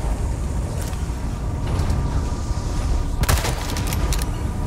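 Gunfire in Resident Evil 4 Remake, a few sharp isolated shots with one louder cluster of reports, set against a steady low background rumble.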